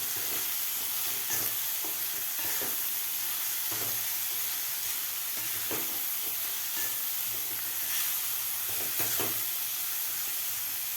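Grated cauliflower is stirred into frying masala in a pan for a quick bhurji, with steady loud sizzling and hissing broken by soft scrapes and taps of the spoon.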